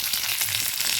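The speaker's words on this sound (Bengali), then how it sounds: "দিয়ে দেব কারি পাতা আর কাঁচা লঙ্কা, সঙ্গে দিয়ে দিচ্ছি রাই সর্ষে" Black mustard seeds, curry leaves and green chillies sizzle hard in hot oil for South Indian lemon rice, giving a loud, steady, close crackling hiss with no breaks.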